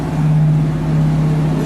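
Muscle cars pulling in at a car show, a steady low engine drone with a strong hum that stays loud and close over a brief moment, without clear speech.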